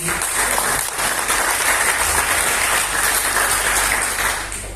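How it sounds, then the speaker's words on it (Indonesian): Steady audience applause fills an Indonesian music talk show for almost five seconds, a dense, even wash of many clapping hands with no voices, easing slightly at the very end. "Boleh tepuk tangan sekali lagi."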